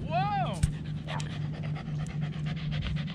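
A dog pants rapidly and steadily close by, with a brief whimper early on and people talking over it on a Captiva Island, Florida vacation.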